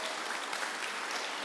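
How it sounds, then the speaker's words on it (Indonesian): A congregation at a church service claps in a brief, even burst of applause, continuous and fairly full throughout. "Tepuk tangan bagi dia."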